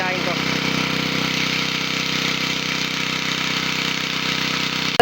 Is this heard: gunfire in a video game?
no